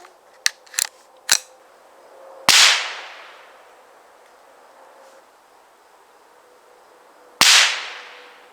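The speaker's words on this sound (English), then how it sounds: "Take a couple shots." Two sharp gunshots crack a few seconds apart at a homemade target outdoors, each followed by a fading ringing tail, after a few quick small clicks.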